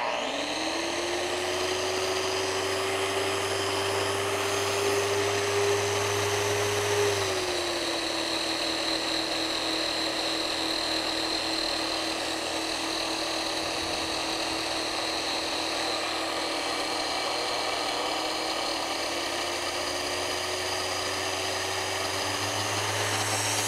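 A shot blaster recirculates steel shot onto a concrete floor, giving a steady, loud mechanical whir and drone that holds throughout. The pitch shifts slightly at one point.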